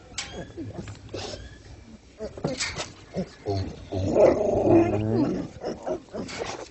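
A dog growls and whimpers in low, rumbling bursts, swelling louder midway, with a person's voice talking over and between the sounds.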